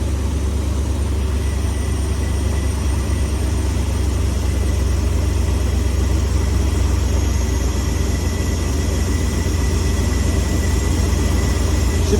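Steady, loud idle of a car engine running on a Holley 4412S carburetor, a continuous low rumble with an even drone that holds unchanged from start to finish, with no voices.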